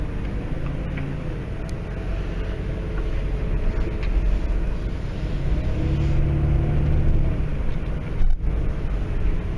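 A car drives along Archer Avenue, a continuous low road and engine rumble heard from inside the vehicle, steady and fairly loud with slight swells and no talk.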